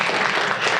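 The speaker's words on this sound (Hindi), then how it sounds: "तालियां बजाइए." Audience applause from a gathering at Rama Ai Buddha Vihar in Nagpur, a brief burst of many hands clapping at close range, dense and even throughout.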